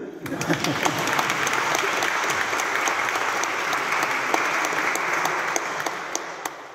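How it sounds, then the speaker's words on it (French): Audience applause at a funeral service fills the space with steady, dense clapping that holds for several seconds before thinning slightly at the end, with faint voices mixed underneath. "Vous pouvez applaudir tout de même."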